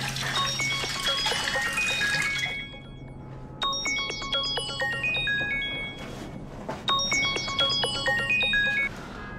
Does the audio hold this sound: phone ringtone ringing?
yes